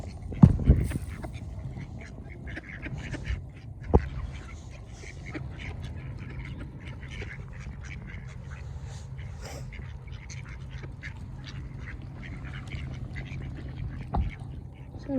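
Ducks being fed outdoors give occasional quacks over a soft steady background hum, with a louder burst near the start and scattered faint calls afterward.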